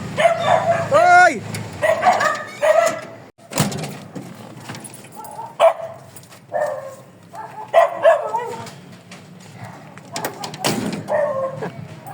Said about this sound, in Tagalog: Ayan, mga aso.